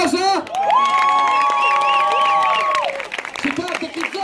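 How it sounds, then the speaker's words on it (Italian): A crowd at a Caribbean dance show applauds and cheers for kizomba dancers, with a long sustained whoop and shouting voices riding over a steady roar of clapping, all loud and close. "Glielo facciamo un grosso applauso?"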